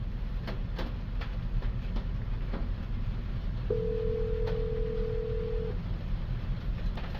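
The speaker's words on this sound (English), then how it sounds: "Let's try and make a phone call" A call is dialed through an Android car stereo in a Ford E-Series Econoline van. Quick keypad tones are followed by a single long steady ringback tone over constant cabin hum.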